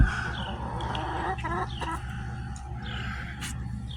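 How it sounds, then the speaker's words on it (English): A rooster clucks in short, repeated bursts nearby, with other fowl murmuring softly around it. "And there's Cocky the rooster."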